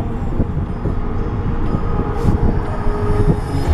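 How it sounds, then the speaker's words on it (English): A CSX southbound freight train hauled by HLCX locomotives passes close by in Columbus, Ohio, giving a steady, loud rumble of rolling wagons with rhythmic clatter throughout. "It's that CSX train"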